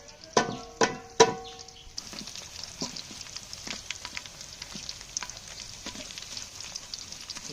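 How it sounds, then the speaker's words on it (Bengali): Three sharp metallic clanks open the scene, then plantain chanachur snack fries in hot oil outdoors with a steady crackling sizzle and scattered pops. "দেখেন ভাজা পড়া শুরু হয়ে গেছে"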